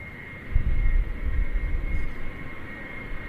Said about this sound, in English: Lining up now on the runway and starting their takeoff roll, the two aircraft from the Shuttleworth collection, the Chipmunk